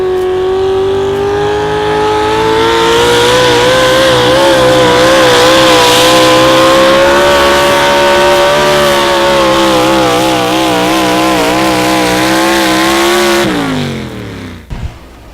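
Modified 4x4 pulling truck at an outlaw truck pull in Madison, South Dakota, roaring at full throttle for about thirteen seconds with a loud, steady, wavering engine note, then cutting off abruptly near the end.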